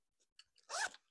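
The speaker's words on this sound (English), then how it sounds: "And the zipper is very smooth." Smooth zipper on a repurposed Hermes dust bag pouch, a few faint ticks followed by one quick soft zip pull lasting under half a second, close and quiet.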